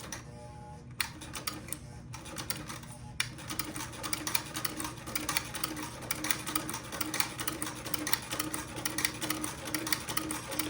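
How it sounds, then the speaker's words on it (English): Vintage buttonhole attachment on a sewing machine stitching, a steady rapid mechanical clatter that runs continuously after a brief start, close and fairly loud with no talking. "Okay, so let me get busy sewing."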